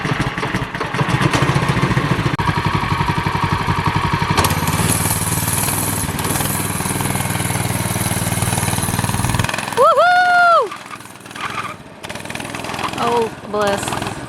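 A small free go-kart engine, revived after ten years idle, runs loud and rough on a driveway, its throttle being tweaked, then cuts off abruptly, leaving a brief whine and quieter background sounds.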